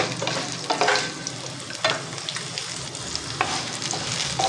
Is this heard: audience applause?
no